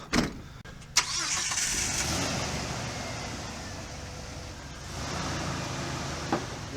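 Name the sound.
2005 Jeep TJ engine running as it starts to drive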